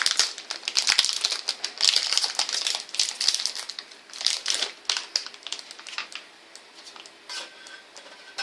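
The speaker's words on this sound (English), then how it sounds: "I'm going to grate my chocolate." Hard chocolate bar being grated, a run of rapid scratchy rasping strokes, close and crisp, easing off toward the end.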